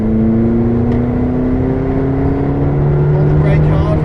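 A McLaren 620R accelerates on the Silverstone circuit, its engine note rising steadily as a loud, continuous drone heard from inside the car.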